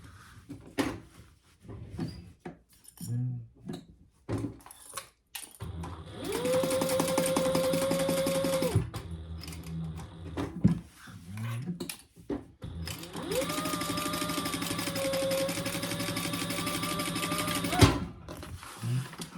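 A sewing machine stitches leather crossbody bag credit card slots in two steady runs of a few seconds each, a close mechanical whir with a pitched motor tone, separated by handling clatter and brief clicks.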